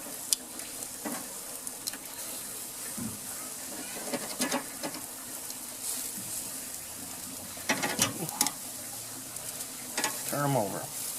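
Peeled Texas-style shrimp sizzle and hiss steadily on a hot grill, with intermittent scrapes and clacks as metal tongs flip them, a few louder bursts near the end.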